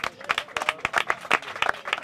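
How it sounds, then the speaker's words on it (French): Only a handful of people at an evening gathering in Bukavu clap, sparse and irregular, nearby and modest in volume, with faint voices underneath. "Oui, vous êtes quatre à applaudir"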